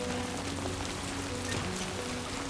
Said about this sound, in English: Oh boy, I hate walking in the rain.